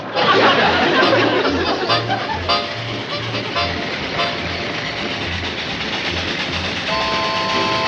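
A train pulls away from a station, with rhythmic clickety-clack wheel beats and rolling rumble over a busy wash of noise. A faint horn-like tone and some background chatter sit under the rumble.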